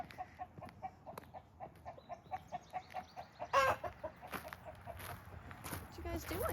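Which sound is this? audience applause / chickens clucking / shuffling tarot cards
chickens clucking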